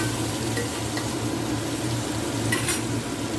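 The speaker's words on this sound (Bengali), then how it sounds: "তারপরে আবার আমি এখন কিছুক্ষণ ওই তেলের উপরে সর্ষে বাটাটাকে দিয়ে দিচ্ছি" Mustard paste sizzles and spatters in hot oil while being stirred, for a dish of katla and hilsa fish; a steady close crackle holds throughout under a low hum, with a brief hiss of water near the end.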